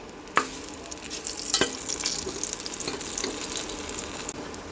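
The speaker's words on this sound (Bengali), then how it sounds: "বেগুন ভাজতে গেলে তেলটা একটু বেশি দিতে হবে" Eggplant slices fry in plenty of hot oil, a steady close sizzle with a few sharp clacks of a spatula turning them, no voices.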